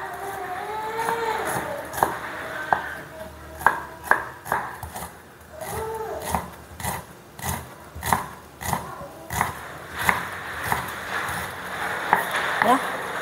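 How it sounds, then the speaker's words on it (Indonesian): Knife slicing shallot leaves on a cutting board, a steady series of sharp knocks roughly every half second, fairly close, with a voice and kitchen background in between. "Nah habis itu aku mau ini iris-iris daun bawang merah gitu ya."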